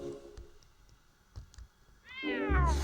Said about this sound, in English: The cat won't come out of the area, bro.